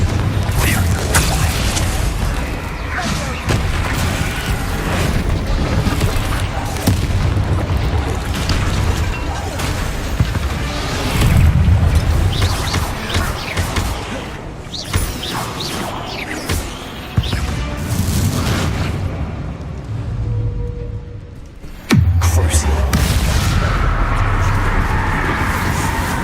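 Fiery Confringo spell blasts in the Hogwarts Legacy video game, with repeated booming explosions and crashing impacts amid dense combat noise and occasional speech.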